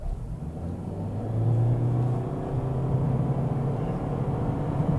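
A 2024 Toyota Corolla Hybrid pulls away from a stop, its engine rising into a steady droning rumble with road and wind noise, heard from inside the cabin.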